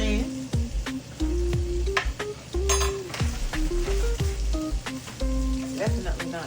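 Flour cooking in a pan to start a roux for Swedish meatballs, with soft sizzling and scraping as it is stirred, heard close under a speaking voice.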